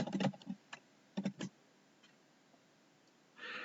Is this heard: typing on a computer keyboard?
yes